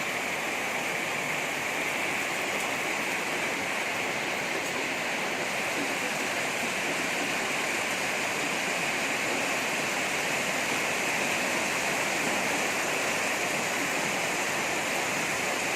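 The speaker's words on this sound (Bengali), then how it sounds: "খুব জোরে বৃষ্টি হচ্ছে।" Heavy rain falls in Malaysia, heard from a home as an even, dense, continuous hiss that stays steady throughout.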